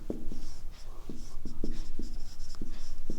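A pen writing on paper in repeated short scratchy strokes, steady and close, with no talk over it.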